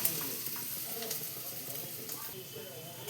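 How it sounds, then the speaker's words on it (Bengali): Onions frying in a pan for a milk chicken dish sizzle steadily and fairly close, with scraping stir strokes and small clatters running through the short stretch. "দেখো পেঁয়াজটা একটু ভাজা হয়েছে, বেশি লাল করিনি"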